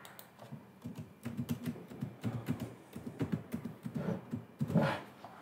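Rapid, steady typing on a computer keyboard while entering a password, close and fairly loud clicks running continuously with brief pauses and no talking.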